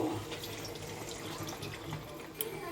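Water is poured into a pan of simmering rui fish curry, a soft steady splashing and trickling that stays fairly faint throughout.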